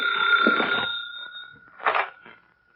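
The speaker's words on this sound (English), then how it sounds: "That's the phone ringing in your office, Jones." An old-time office telephone bell rings in a radio crime drama, a loud, sustained metallic trill followed by a second shorter burst, then trailing off into quiet.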